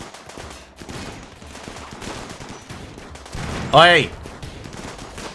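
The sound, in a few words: gunfire in RimWorld video game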